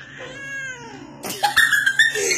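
A cat meows up close: one long, drawn-out wavering meow, then a burst of louder, harsher strident meows, with no voices.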